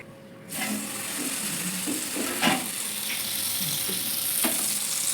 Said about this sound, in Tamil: இப்போ வந்து வாழை மீனை வறுத்துக்கலாம்